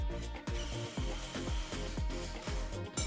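Repeated cuts through 2x4 lumber with a power saw during a garage shelving build, about seven bursts in a steady rhythm, loud and close, with no talking.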